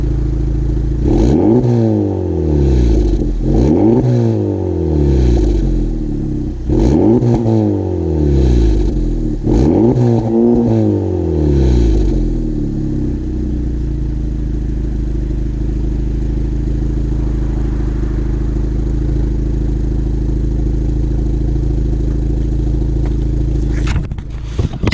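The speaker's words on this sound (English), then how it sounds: "I'm gonna go ahead and give you guys a couple of revs." A 2023 Honda Civic Type R FL5 fitted with an AWE Touring exhaust blips its engine in four sharp revs that rise and fall, then settles into a steady, loud idle drone before a brief clatter at the end.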